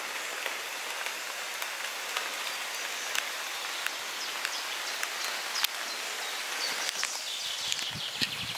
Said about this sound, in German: man sieht da ja den Regen